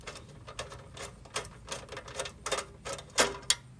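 Three nuts or bolts are backed out and removed from the recoil pull-start assembly of a small engine, producing a quiet series of sharp, irregular ticks and clicks from close by.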